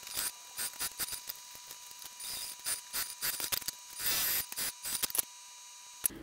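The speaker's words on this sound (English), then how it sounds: "I'm going to top stitch all the way around these two long edges" A sewing machine top stitches the long edges of a fabric wristlet. It runs in short mechanical bursts of rapid ticking and clattering, separated by brief pauses, close and clear.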